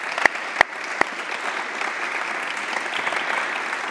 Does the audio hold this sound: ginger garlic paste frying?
no